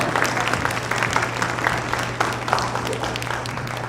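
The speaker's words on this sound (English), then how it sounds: "Now we got clap." An audience at a YMCA all-staff gathering claps steadily for several seconds, a dense roomful of applause with a low hum running underneath.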